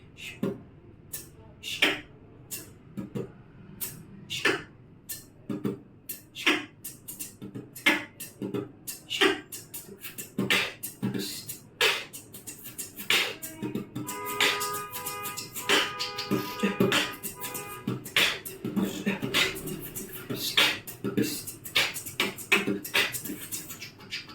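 A voice imitates a drum kit with a steady rhythm of mouth-made kick, snare and hi-hat clicks, close and fairly quiet, repeating in a loop.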